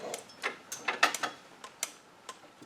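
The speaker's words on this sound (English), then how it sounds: "Let's see if we can get a washer on this bolt." A metal washer fitted onto a 3/8 bolt during a Harbor Freight Badlands 2500 winch install makes light, irregular metallic ticks and clinks, close and fairly quiet, with no speech.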